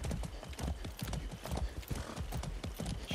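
Rapid, continuous hoofbeats of a horse galloping in Far Cry 6, dense and rhythmic throughout.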